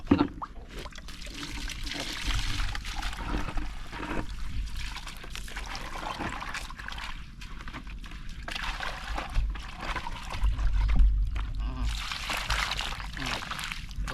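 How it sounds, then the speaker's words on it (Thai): Water pours and trickles into a bucket during rinsing after catching fish outdoors, a steady splashing flow with some sloshing, heard close under occasional speech. "เดี๋ยวผมล้างถัง"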